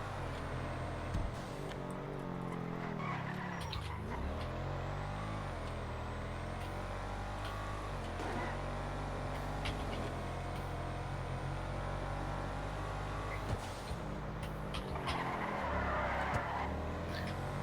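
Vehicle in a video game driving fast through city docks, handling like a heavy boat, with a steady loud engine drone, tire noise and brief skid squeals scattered throughout, no talking.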